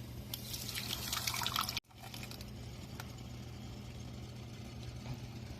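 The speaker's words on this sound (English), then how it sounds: "let's pour it in our saucepan" A pureed mixture for Nigerian jollof rice pours into a saucepan, a soft trickling splash for under two seconds, followed by quiet background hum.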